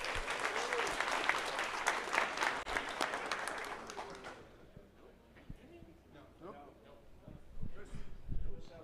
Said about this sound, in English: Take it away and give him an applause